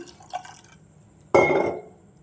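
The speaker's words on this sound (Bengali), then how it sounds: "তো আমি এর মধ্যে জল দিয়ে দিলাম" Water is poured into a pot in one sudden, close, splashy gush that tails off after about a second, preceded by faint kitchen clinks.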